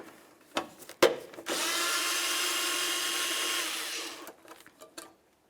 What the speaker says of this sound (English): Now we can start removing our 10mm headed mounting bolts.